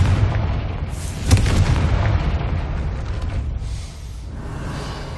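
A Confringo fire spell explodes in Hogwarts Legacy, a single booming blast with a brief sharp crack, then a rumbling tail fading into ambient game noise.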